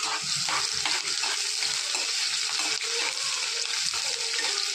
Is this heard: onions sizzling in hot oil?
yes